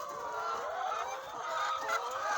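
Chickens cluck and murmur in a coop where birds have been escaping, a steady overlapping chatter of hens held at moderate distance with no one talking.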